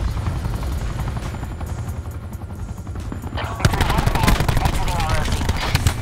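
Helicopter chopper in Call of Duty Black Ops 4 multiplayer, a steady low rotor thrum under dense bursts of gunfire that grow louder and sharper midway through, with a player talking over the action.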